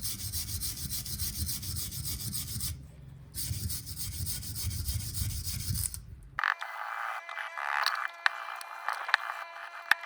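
A wire brush scrubs a rusty water pump rotor from a diesel-powered water pump in rapid rasping strokes, close and loud at first, then giving way to scattered clicks and scraping.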